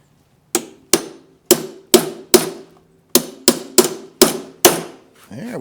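A hammer taps a carriage bolt into its square hole while a lawnmower is being worked on, making about eleven sharp, close metallic strikes in two quick bursts, each ringing briefly before the next.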